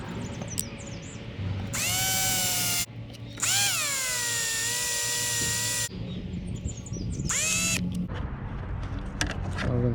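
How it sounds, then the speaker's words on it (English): A power drill whines loudly in several bursts while drilling holes in plastic, rising in pitch as it spins up, with short pauses and light clatter between holes. "centered, we're going to drill 4 holes"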